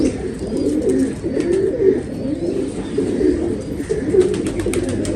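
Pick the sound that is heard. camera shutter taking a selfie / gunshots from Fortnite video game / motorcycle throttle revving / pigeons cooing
pigeons cooing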